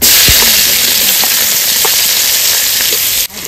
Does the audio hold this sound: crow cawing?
no